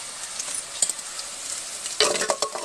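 Crushed garlic hits hot oil for a fish kolambu, setting off a close, bright sizzle with scraping stirs. A sharper burst of spitting oil flares near the end.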